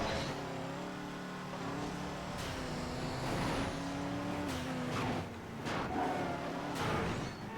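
Race car engines in a three-lap video game race, one opponent firing NOS, with steady droning and revving, rising pitch sweeps and occasional whooshing bursts, continuous and fairly close.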